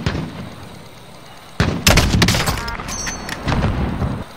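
Shotgun and sniper rifle fire in a Call of Duty match: a burst of sharp, loud gunshots after a quieter opening, with several cracks and booms clustered over the last few seconds.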